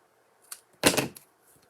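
Scissors cutting through paper Christmas tree pieces for a handmade card: one short snip followed by a longer rasping cut, close and fairly quiet, with no talking.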